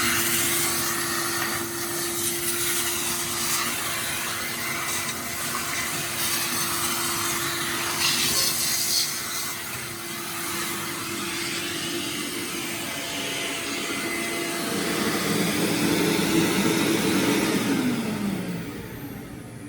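A 1975 Sears Kenmore Model 116.25990 canister vacuum cleaner runs continuously close by with a steady motor drone and airy suction roar, its pitch shifting as the nozzle moves across carpet.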